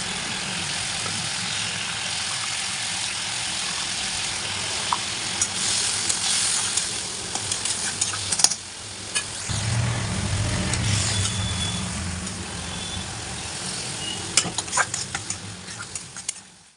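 Fish curry cooks in a pan with a continuous frying sizzle and occasional stirring scrapes and clinks, moderately close and steady throughout.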